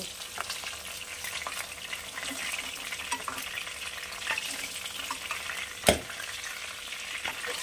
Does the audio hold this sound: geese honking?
no